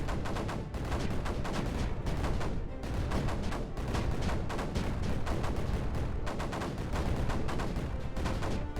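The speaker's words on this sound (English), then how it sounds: "Those mortars are doing a great job." Mortars firing in the video game Creeper World 4, a dense, unbroken barrage of rapid overlapping blasts that stays loud and even throughout.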